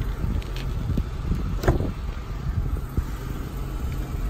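A Dodge Challenger muscle car engine idles with a steady, low rumbling purr, close by, with some wind blowing across the microphone.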